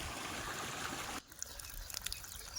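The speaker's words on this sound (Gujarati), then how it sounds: "આ જોઈ જો પાણી વયું જાય છે ફુલેવરમાં" Irrigation water rushes steadily into a cauliflower field, then cuts off abruptly, leaving quieter trickles and drips, all fairly faint.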